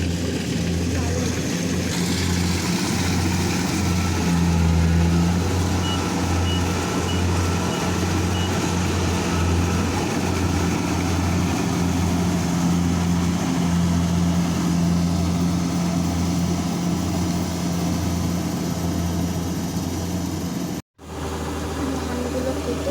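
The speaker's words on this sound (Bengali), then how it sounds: "মেশিনটাও নেমে গেছে ধান কাটার জন্য আমাদের জমিতে। কত স্পিডে কাটছে," A rice harvesting machine cuts paddy in a village field, its engine droning loud and continuous with a steady mechanical hum and rattle, briefly cutting out near the end.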